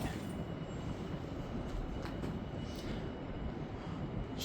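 In a parking garage, a Schindler or Kone traction elevator approaches through the shaft as a faint, steady rumble with soft clicks and rattles, heard alone.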